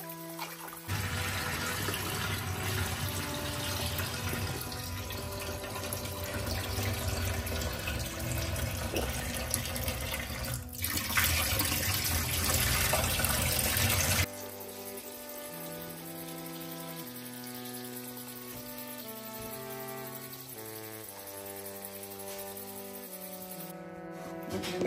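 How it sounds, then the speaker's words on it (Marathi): Tap water runs over rice being washed for soaking, a steady rushing splash for about fourteen seconds before the flow stops and only a soft tonal background remains. "चांगले स्वच्छ धुवायचे, चांगले 2-3 वेळा आणि भिजत ठेवायचे"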